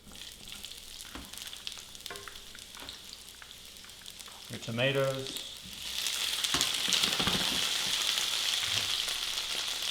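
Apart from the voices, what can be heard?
onion sizzling in hot oil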